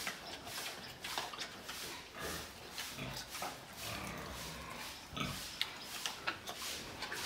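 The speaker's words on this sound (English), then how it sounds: "Because pigs eat a lot. They love munching." Pigs on a farm munch plantain leaves and popcorn, giving faint, close, wet crunching and chewing with occasional snorts and grunts, steady and irregular throughout with no voices.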